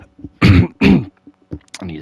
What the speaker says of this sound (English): I need to clear my throat like 500 times,